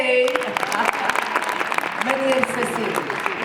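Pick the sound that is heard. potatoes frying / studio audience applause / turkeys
studio audience applause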